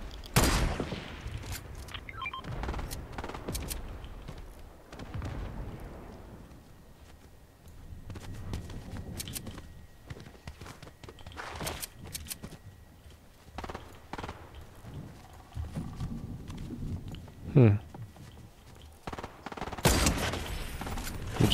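Fortnite gunfire comes in scattered bursts of sharp shots with gaps between them, some close and some further off, against a busy game background.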